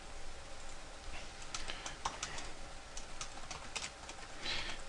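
Keystrokes on a computer keyboard tap out an irregular run of quiet clicks as information is entered into software, faint and close with no talking.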